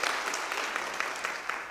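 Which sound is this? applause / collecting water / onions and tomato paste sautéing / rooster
applause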